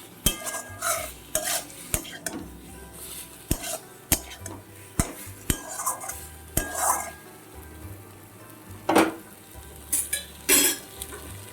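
Potatoes are stirred in a hot pan for egg curry, a spatula scraping and clacking against the metal in irregular bursts over a soft, steady sizzle, close and fairly loud, with no voices.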